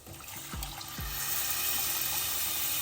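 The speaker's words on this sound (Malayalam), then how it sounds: "നമുക്കിനി ആവശ്യമായിട്ടുള്ള വെള്ളം ചേർത്ത് കൊടുക്കാം" Water poured into a pan of Kerala fish curry with kodampuli, a short splashing pour that settles into a steady rushing hiss, near and moderately quiet.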